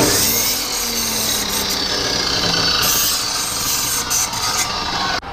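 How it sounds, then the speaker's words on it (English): Edges of 1mm steel brackets are deburred with a tool, producing a loud, continuous abrasive rasping with a few brief dips near the end and no talking. "I'll just quickly deburr the edges."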